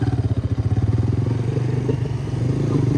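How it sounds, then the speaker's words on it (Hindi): A Honda CG125 motorcycle rides in an informal street race, its single-cylinder engine thumping in a close, steady, pulsing rhythm that slightly smooths out as it runs. "और ये है जी इनका CG125 जिसके साथ अभी रेस लगानी है"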